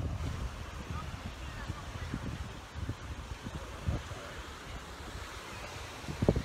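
Waves wash onto a sunny Mediterranean family beach on Spain's Costa del Azahar, with steady low surf and wind buffeting the microphone, a constant rumbling wash heard from close by.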